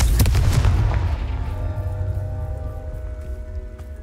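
Heavy booming blasts of the Confringo spell in Hogwarts Legacy, a loud close explosion at the start that rumbles and decays slowly over several seconds with no talk.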